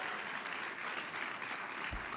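A crowd at a government food-policy event gives a round of applause, steady continuous clapping that sounds somewhat distant and subdued, with no one speaking over it.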